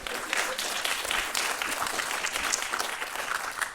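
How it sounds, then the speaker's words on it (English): Audience applauding at a Register of Wills event, a steady dense wash of many hands clapping close and loud throughout, with no talk over it. "Yes, you can applaud."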